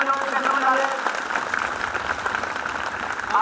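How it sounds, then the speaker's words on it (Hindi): Many children clap together at a school inter college assembly, a dense continuous patter of applause with an adult voice speaking over it. "जरा हाथ ऊपर करके ताली बजाओ।"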